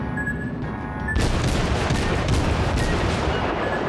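Warship guns firing in World of Warships, a sudden loud salvo followed by a dense rolling barrage of booms over steady background rumble, after a quieter start with a brief tone.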